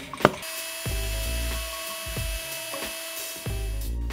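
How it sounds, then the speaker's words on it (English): A power drill bores vent holes through wood for a DIY three-barrel composting toilet at an off-grid cabin, in three separate revving bursts close by, with a sharp knock near the start. "I'm just gonna add some holes here for my vents"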